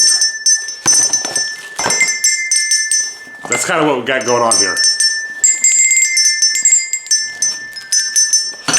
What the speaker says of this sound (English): I bought a set of these color coded bells.